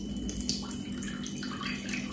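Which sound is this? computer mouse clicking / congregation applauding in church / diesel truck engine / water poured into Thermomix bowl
water poured into Thermomix bowl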